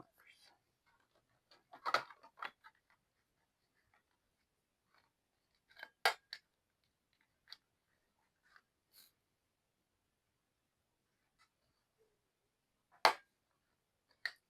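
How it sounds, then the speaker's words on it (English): Quiet snips of a corner punch or scissors rounding paper corners for a junk journal, a few soft clicks and cuts spaced apart in a hushed room. "Let me round the corners."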